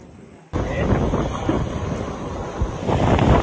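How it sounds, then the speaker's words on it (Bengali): Loud, steady sea wind buffeting the microphone with rough surf churning underneath at Kumira Ghat, Sitakunda, Chittagong, starting abruptly after a brief quieter moment. "হঠাৎ করেই সমুদ্রের তুমুল বাতাস বইতে থাকে।"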